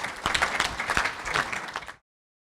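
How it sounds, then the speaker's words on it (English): Brief applause from a small-business forum audience for the panelists: about two seconds of moderately loud, dense clapping that cuts off abruptly. "A round of applause for them, please."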